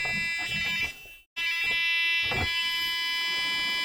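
Electronic buzzer on a TI-RTOS demo board gives a steady, loud high-pitched tone with a brief dropout near the middle, after which it resumes at full level.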